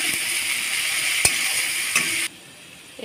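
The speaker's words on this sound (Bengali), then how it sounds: "পেঁয়াজ বাটা, রসুন বাটা, ভালো করে একটু ভেজে নেব।" Onion paste and garlic paste fry in a pan with a steady close sizzle and a couple of sharp utensil clicks, then the hiss drops away abruptly near the end.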